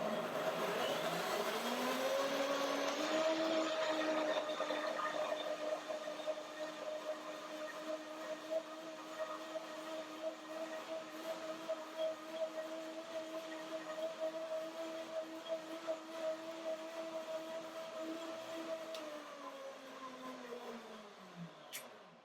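A kitchen blender whirs loudly, its motor pitch rising then holding steady for a long stretch before winding down at the end.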